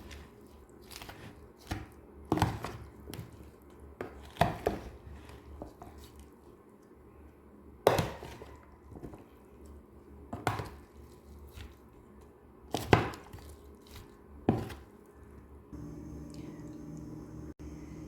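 A vegetable salad being mixed with sauce, heard as wet squishing and irregular tapping knocks of a utensil against the bowl, some louder than others, with no one talking.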